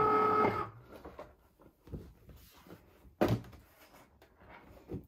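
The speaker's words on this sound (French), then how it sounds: "Je vais pouvoir donc décharger mon tapis." A Cricut Maker cutting machine unloads its cutting mat after cutting fabric pattern pieces: a short motor whir, then a few separate clunks and thunks with quiet gaps between them.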